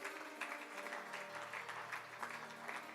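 An audience at a Shrimad Bhagavat Katha religious gathering claps steadily for a few seconds, a dense, moderately distant round of applause with no talking over it.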